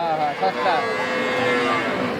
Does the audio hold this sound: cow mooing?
yes